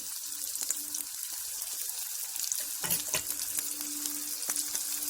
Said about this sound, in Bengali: তেলটা গরম হয়ে যাবে, পেঁয়াজ কুচিটা দিয়ে দিচ্ছি।